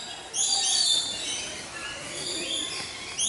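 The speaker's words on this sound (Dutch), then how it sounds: "Hier is ook allemaal vol met vogels en zo." Many birds calling in a wildlife park, a dense chorus of high chirps and whistles from various distances, fairly loud and continuous with a faint background rumble.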